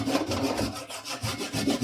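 A fine-toothed hand saw cuts through a knot in a piece of wood, making rhythmic back-and-forth rasping strokes that are close and steady, with no voices.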